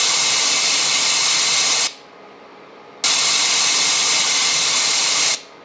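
Broadband test noise tilted toward the high end, a bright, hissy blue noise heard in two loud steady bursts with a short silent gap between them, no voices.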